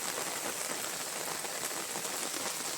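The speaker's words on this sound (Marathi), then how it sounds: "बघा असं वाटतंय का भरपूर मोठं पाऊस पडता." Heavy rain pours steadily onto surfaces, a dense continuous hiss with dripping patter, loud and close throughout with no voices.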